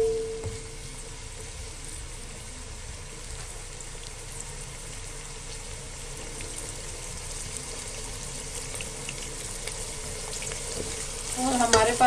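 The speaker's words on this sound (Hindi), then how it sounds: "थोड़ी तेज आंच पे इसको हल्का सा फ्राई करें।" Mixed vegetable kachori filling fries in a pan over fairly high heat, giving a steady, even sizzle close by with faint stirring that runs throughout, getting a little louder and busier near the end.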